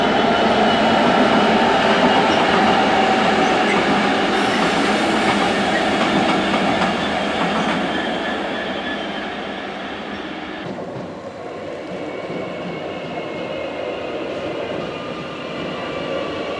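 An eight-coach train, the 18:55 service to Rugby, rumbles at a railway station, a loud steady roar with rhythmic clacking and faint wheel squeal that eases slightly partway through and carries on without speech.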